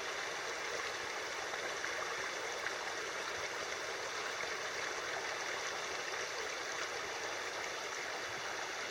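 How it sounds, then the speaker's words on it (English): A stream flows through Fernworthy Forest on Dartmoor with a steady, close rushing and burbling that stays even and unbroken throughout, with no voices. "just listening to that water, it's everything"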